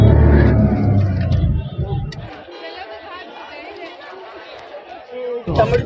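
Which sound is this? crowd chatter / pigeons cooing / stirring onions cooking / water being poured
crowd chatter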